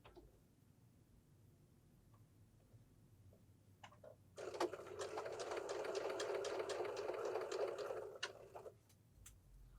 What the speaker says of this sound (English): fold them right sides together, and sew again